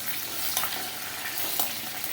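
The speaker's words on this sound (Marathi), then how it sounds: "तर हा सगळा मसाला असा मस्त भाजून घ्यायचा" Spice masala with chillies and curry leaves frying in hot oil, a steady close sizzle with occasional scraping as it is stirred.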